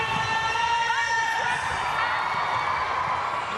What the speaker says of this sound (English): the home crowd like that one